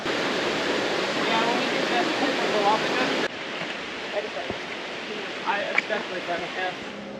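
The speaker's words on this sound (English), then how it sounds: "waterfall." A waterfall on a volcano hike in Guadeloupe roars as a dense, steady rush of water, loud and close for the first few seconds, then softer with scattered splashes and faint sounds over it.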